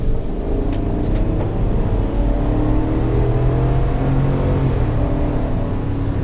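Steady, continuous engine drone from a 2021 Chevrolet Tahoe LT with a 5.3-liter V8 and 10-speed automatic, a low rumble holding at a fairly constant level throughout, heard close with no talking.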